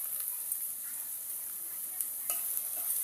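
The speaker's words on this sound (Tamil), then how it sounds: "நல்லா வதங்கட்டும்." Onions sautéing with cinnamon, cardamom and bay leaf in a pan for mutton biryani, giving a steady close hiss of frying with a few soft stirring scrapes and clinks throughout.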